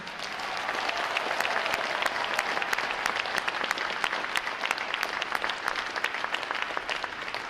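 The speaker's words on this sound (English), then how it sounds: "Please join me in a round of applause for our moms and dads, parents, and family members." Large graduation crowd at a Navy boot camp ceremony in a drill hall, applauding parents and family members with dense, steady, sustained clapping throughout.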